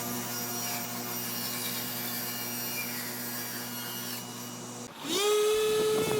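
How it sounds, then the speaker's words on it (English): Oversized wooden pieces with dovetail tenons are cut down to size with a power saw, giving a steady close whine that pitches up sharply near the end as the blade spins freely. "I cut the oversized pieces with the dovetail tenons down to their proper size."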